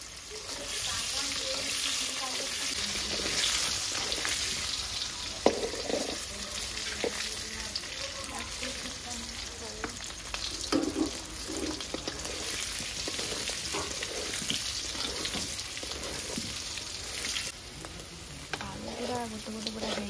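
Boiled potatoes frying in hot oil in a pan, a steady close sizzle with clinks and scrapes of stirring throughout.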